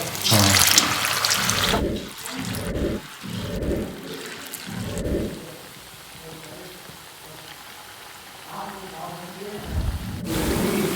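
Baby corn frying in bubbling hot oil crackles and hisses loudly at first, then settles into a softer, uneven sizzle before swelling again, with a voice speaking over parts of it.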